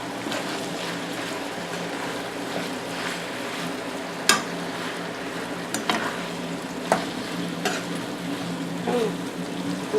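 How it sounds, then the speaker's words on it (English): Philly cheese steak filling being stirred in a pot, a steady low sizzle and scraping with a few sharp clinks of the utensil against the pot, close and moderately quiet. "I'm going to give this a good stir"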